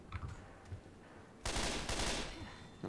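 Rapid bursts of gunfire in the zombie shooter Left 4 Dead 2, crash course campaign, erupting loud and dense after a quieter stretch of game noise and continuing steadily to the end.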